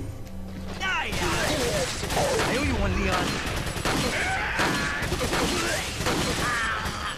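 Gunfire erupts in the video game Resident Evil 4, rapid repeated shots and crashing impacts amid frantic combat noise, loud and continuous, with speech mixed in.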